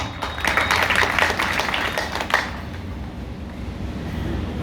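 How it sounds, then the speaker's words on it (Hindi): Audience at a roadside political rally in Kodraghat, Madhepura, clapping in a thin, scattered patter for a couple of seconds that then fades into open-air background noise. "तालियां बजा रहा है कितना"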